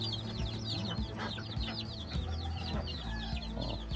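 Chickens and roosters on a rural village farm cluck and chirp in a busy flock, with repeated short calls layered over each other close by.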